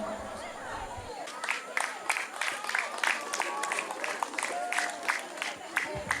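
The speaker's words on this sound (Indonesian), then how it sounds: "Mari kita kasih tepuk tangan yang paling meriah sekali lagi untuk kalian." Audience at a church children's event in Kairatu clapping, a steady patter of many hands with a voice talking over it throughout.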